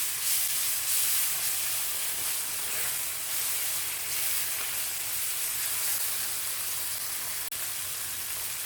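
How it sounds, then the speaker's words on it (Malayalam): Tomatoes sautéing in oil in a pan while cooking for a methi dal fry, giving a continuous, even sizzle and hiss that stays close and steady throughout with no talking. "ടൊമാറ്റോ നന്നായിട്ട് ഒന്ന് മാഷായി കിട്ടുന്ന വരെ ഒന്ന് വഴറ്റിയെടുക്കണം"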